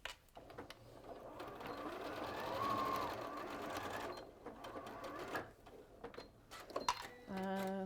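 A sewing machine stitches fabric face pieces for a pet-themed project, running steadily at close range for several seconds, with a brief pause and light handling sounds near the end.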